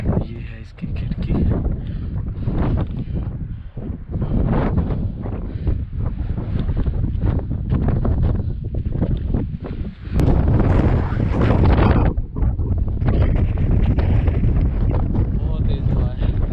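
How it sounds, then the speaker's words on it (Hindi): Strong wind roars and buffets the microphone throughout at Kharphocho Fort in Skardu, with a person speaking over the gusts; the blowing swells louder partway through. "बहुत तेज़ हवा चल रही है"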